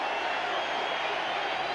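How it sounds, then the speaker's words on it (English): A cricket crowd at a 1997 one-day international between New Zealand and England cheers after a wicket, a broad continuous roar of voices at an even level. "Something for the crowd to cheer about at last"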